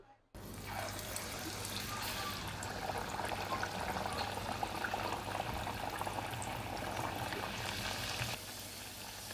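Corn flour vadas frying in hot oil: a steady, dense sizzle and crackle that starts abruptly and keeps up evenly near the pan, then drops off near the end.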